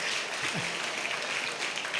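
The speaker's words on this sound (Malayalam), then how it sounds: "എല്ലാവരും ഒന്ന് കൈയടിച്ചേ" At an indoor motivational training class for schoolchildren, a roomful of people claps steadily in a dense, continuous burst of applause, with a faint voice briefly heard underneath.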